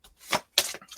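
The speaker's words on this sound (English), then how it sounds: "as I talk, I'm going to shuffle." Tarot cards are shuffled by hand in two or three brief, soft rustling bursts with short pauses between them. The sound is close and quiet.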